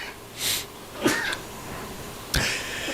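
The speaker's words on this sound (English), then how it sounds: "I feel a sneeze coming on" A person at a podcast microphone lets out a close sneeze, with breathy sniffs and a sharp burst of air, then a second, louder explosive sneeze, in a quiet room.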